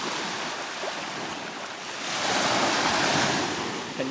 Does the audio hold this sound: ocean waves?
yes